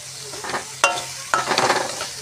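A spoon stirs sugar into green banana stem frying in a little oil in a pan, giving two distinct scraping strokes with soft sizzling between them, close and fairly quiet, with no voices.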